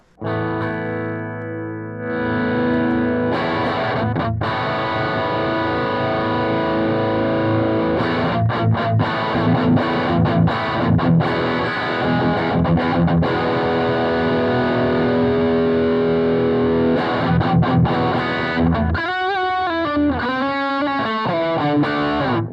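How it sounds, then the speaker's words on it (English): Heavily distorted electric guitar with a high-gain tone plays sustained chords and riffs alone, then breaks into rapid staccato picking near the end. "So let's turn on the distortion and see what we get."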